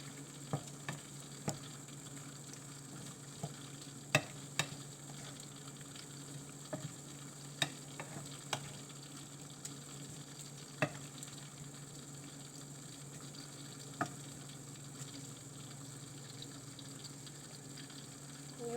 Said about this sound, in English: So now let the veggies be cooked in the gravy for some time.